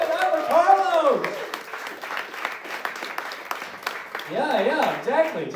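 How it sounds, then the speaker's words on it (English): Studio audience applauding a game show contestant at a live sobriety-test comedy show, a steady wash of clapping across the clip with a host's voice talking loudly over it at the start and end. "Clap it up for Carlos"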